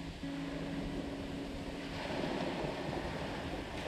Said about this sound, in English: But now I'm on the beach and the tide's out.